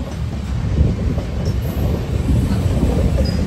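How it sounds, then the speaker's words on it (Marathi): A goods train rumbles past close by, a loud, steady low roar of wheels and wagons that runs unbroken through the whole clip. "मालगाडी"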